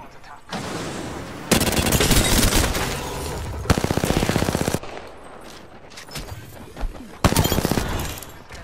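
Bursts of automatic weapon fire in the battle royale shooter Apex Legends, several loud rattling volleys separated by quieter stretches, with a short sharp crack between bursts and a final burst near the end.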